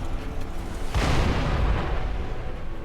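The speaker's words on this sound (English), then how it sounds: "That's why I hate those cannons." Cannon fire in the video game Sekiro: Shadows Die Twice, set around Ashina Castle, hits as one heavy booming blast about a second in, with a rumbling tail that lingers over steady game ambience.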